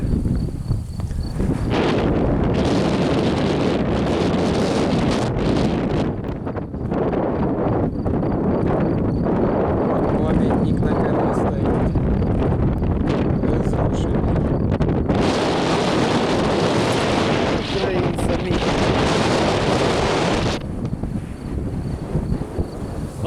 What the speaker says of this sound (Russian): А, сумасшедший ветер будет.